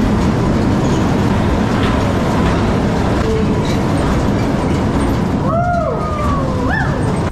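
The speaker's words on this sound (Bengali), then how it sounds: "সিংহের মুখ গহ্বরে রয়েছে ফ্যান্টাসি ট্রেন।" A fantasy train ride inside a lion's-mouth tunnel at an amusement park, with a loud steady rolling rumble and clatter of the cars, and brief squealing tones near the end.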